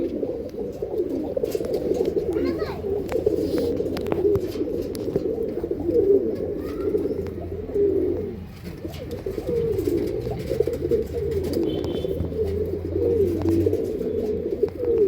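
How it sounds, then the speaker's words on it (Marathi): Breeding pigeons in a loft in Phaltan coo steadily and overlap one another, a continuous low, throaty murmur of many birds close by, with faint chirps now and then. "ब्रीडिंगचे कबूतर आहेत"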